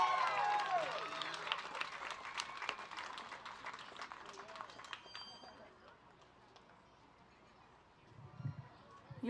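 A crowd applauds at a junior livestock show evening: dense, steady clapping fills the first five seconds, then thins out and fades to quiet murmur, with a voice faintly present.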